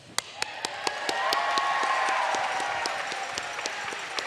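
Crowd applauding at a Classic Tetris World Championship 2024 semifinal, clapping that swells into dense, sustained applause from many people, with a few sharper individual claps standing out.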